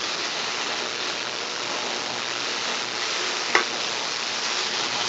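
Food searing on an electric cooker set to max sear, a steady, even hiss of sizzling that runs throughout at moderate level, with one faint clink partway through.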